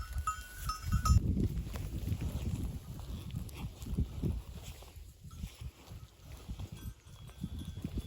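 A herd of goats browses in oak scrub on a mountainside, giving a continuous low rustle and shuffling of animals moving and feeding close by, with no clear calls.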